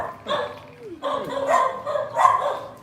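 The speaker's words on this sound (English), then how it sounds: "This is the dog." Rescued dog giving a few short, yelping barks and whimpers in quick succession, fairly close, with people talking around it.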